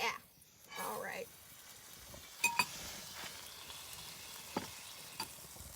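Food frying in a hot skillet over an open fire, a faint steady sizzle with a few sharp clinks of utensils against the pan, and a voice briefly heard near the start.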